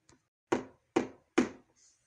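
Three firm knocks on a castle door, evenly spaced and sharp, preceded by a faint light tap, with silence between each blow and no voices.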